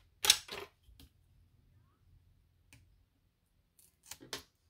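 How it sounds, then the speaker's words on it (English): Craft scissors snip through foam tape in a few close, sharp cuts, with a quick pair at the start, lighter clicks in between and another pair near the end, separated by near silence. "You can cut off very easy foam tape with the scissors from Studio Light."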